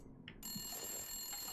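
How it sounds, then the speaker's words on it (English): A telephone ringing in The Long Dark video game, a steady electronic ring starting abruptly and holding over faint ambient game sound. "Oh, there's our phone."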